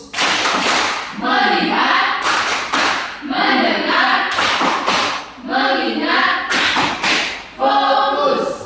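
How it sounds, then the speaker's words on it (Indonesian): A classroom group performs a patterned 'tepuk fokus' clap routine, bursts of sharp unison clapping alternating with chanted voices in a repeating rhythm, loud and close. "Tepuk fokus."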